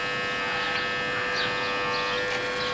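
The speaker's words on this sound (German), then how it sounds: "Wenn nur der Rasierer nicht wäre." An electric razor shaves the fur of a red dog at a zoo, giving a constant, loud, close buzzing hum that holds steady without pause for the whole stretch.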